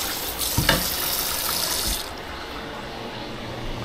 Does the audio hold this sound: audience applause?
no